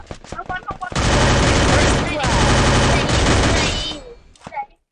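Rapid bursts of automatic gunfire fill a shooting video game, a loud sustained fusillade after a few single shots, with players' voices speaking around it.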